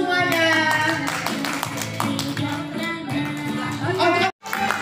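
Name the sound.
applause for everyone in a training class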